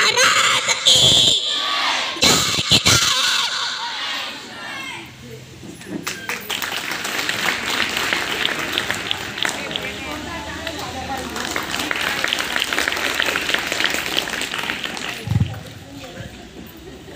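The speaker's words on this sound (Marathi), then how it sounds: "जोरदार टाळ्या" Loud cheering, shouting and clapping from an audience, including children, at a Shiv Jayanti celebration after a performance of a Shivaji Maharaj powada, with sharp bursts at first then a sustained crowd roar mixed with voices.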